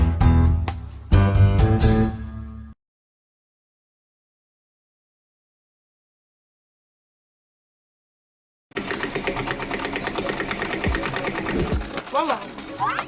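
Sewing machine stitching clothes, a brief burst of rhythmic mechanical whirring, then silence, then a longer steady running stretch, with people talking over it.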